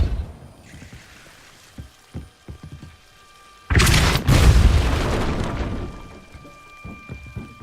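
The Depulso spell goes off in Hogwarts Legacy: a loud, sudden blast erupts after several quieter thuds and taps, then rumbles and hisses away into fainter scattered impacts.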